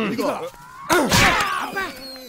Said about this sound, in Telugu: ఒక అడుగు ముందుకేసి తొడ మీద తపామని కొట్టాలి